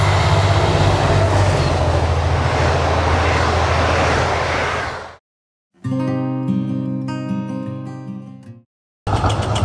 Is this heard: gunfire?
no